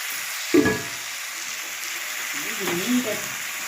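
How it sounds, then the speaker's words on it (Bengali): Chicken pieces fry in a pan with ginger paste, giving a steady background sizzle with a couple of louder spitting bursts and stirring noises. "আপনারা দেখতে পাচ্ছেন মাংসটা একটু হচ্ছে, একটু ভাজা হোক"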